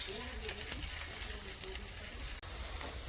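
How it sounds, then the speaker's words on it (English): Crushed chilies sizzle and crackle in a pan of arrabbiata sauce, a soft steady frying hiss with a brief toss partway through. "I like to put about a tablespoon of crushed chilies. Give that a toss."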